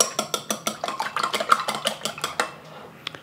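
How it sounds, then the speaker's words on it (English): Three eggs lightly beaten in a bowl with a utensil, a brisk run of about a dozen sharp clinking strokes against the bowl that slows and fades, then two last taps, close and clear. "I'm also using 3 eggs. Gonna lightly beat them."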